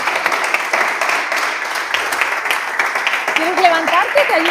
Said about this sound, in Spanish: Bueno, pues un fuerte aplauso.